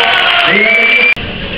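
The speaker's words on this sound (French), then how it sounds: "Je vous propose d'applaudir William Bonnet qui nous rejoint maintenant" A crowd at the FDJ.fr cycling team's 2014 presentation cheers and whoops loudly to welcome rider William Bonnet, a continuous roar that breaks off sharply, then resumes more faintly.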